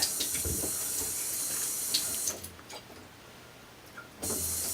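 A sink faucet runs at low pressure, giving a steady, fairly close hiss that eases off midway, then returns at full strength for the last half-second.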